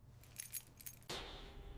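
A set of keys jingles briefly as it is handed over, a close, bright metallic rattle followed by a soft hiss of room tone.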